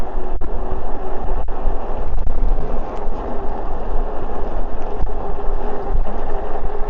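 A LANKELEISI X2000 MAX eBike ridden at full throttle on its rear motor alone, with a steady broadband rush of wind and motor drone that stays loud and continuous, with a few brief knocks along the way.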